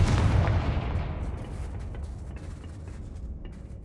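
A spell blast explodes in the video game Hogwarts Legacy, a single heavy boom up front that rolls off into a long, fading rumble.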